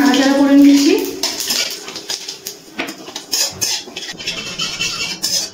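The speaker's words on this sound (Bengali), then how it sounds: "ফোড়নটা একটু তেলে কিছুক্ষণ নাড়াচাড়া করে নিচ্ছি।" Whole spices of bay leaf, dry red chilli, cinnamon and white cumin stirred in hot oil in a pot, with clinking metal spoon and pan knocks and scrapes, close and fairly loud, over a light sizzle.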